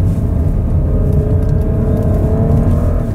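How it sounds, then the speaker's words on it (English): A 2018 Porsche Cayenne V6 pulls out of a corner in second gear, its engine a loud, steady low drone with a rising tone as it accelerates, heard from inside the cabin with no talking. "back to second gear, we can accelerate out"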